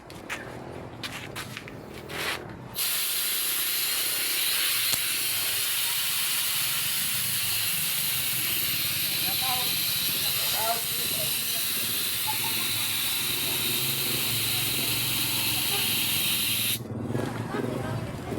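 A loud, steady hiss of air rushing out of an air compressor tank for many seconds, with brief clattering and voices before and after.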